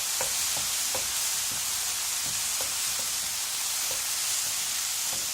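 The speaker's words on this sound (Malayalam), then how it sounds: "നമുക്കിതൊന്ന് നന്നായിട്ട് ഇളക്കി കൊടുക്കാം" Mushroom masala cooks in a pan, a dense steady hiss of frying with light, intermittent taps and scrapes of stirring.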